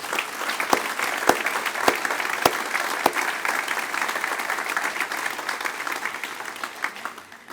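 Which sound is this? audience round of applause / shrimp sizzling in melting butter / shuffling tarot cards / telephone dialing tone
audience round of applause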